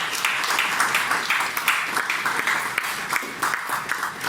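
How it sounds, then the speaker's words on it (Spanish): A church congregation applauds together, a sustained wash of clapping hands filling the room evenly for several seconds without voices. "Démosle un aplauso a Él."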